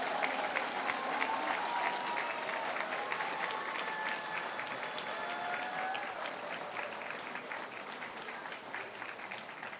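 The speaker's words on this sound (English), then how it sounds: "Applause, please, for all these wonderful people." An awards ceremony audience applauds honourees at a service excellence awards event, with sustained, even clapping from a sizeable crowd throughout and faint tonal music underneath.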